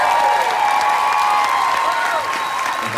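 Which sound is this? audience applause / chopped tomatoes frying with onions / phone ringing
audience applause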